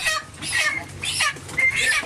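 Chickens clucking beside a backyard coop that collapsed in a whirlwind storm, several birds calling in overlapping bursts nearby, loud and without speech.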